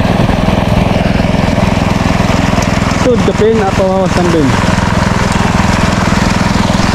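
A farm machine engine runs steadily through a rice harvest, a loud, even mid-pitched drone from start to finish. A voice speaks briefly over it partway through.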